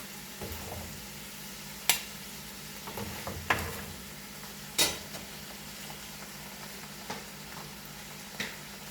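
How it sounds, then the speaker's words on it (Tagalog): A faint, low sizzle of balbacua being sautéed in a pan, broken by a few sharp clicks and taps of stirring spread through the clip, with no talking. "igigisa lang natin saglit guys"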